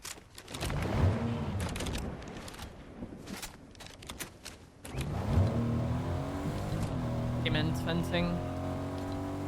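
A car in Fortnite Zero Build, Chapter 5 Season 2, revs and drives with rising engine tones, its motor droning steadily under a player's ongoing commentary.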